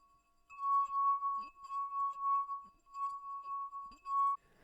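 A wine glass sings a clear, sustained tone as a finger circles its rim, the ringing swelling and fading in a steady pulse.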